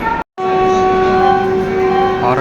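A loud, sustained horn sounds from the Guntur to Aurangabad express train, a single long tonal blast following a brief cutout at the start, with no talk.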